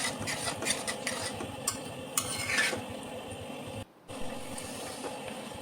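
Turmeric sabzi is cooked in a pan over a low gas flame while a spoon scrapes and stirs it, with soft sizzling and irregular metallic clinks, fairly quiet and with no talking.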